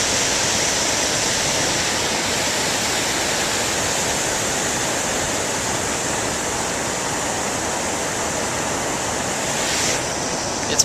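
A river flows steadily in a continuous, close broadband rush of water that holds an even level throughout, with no voices.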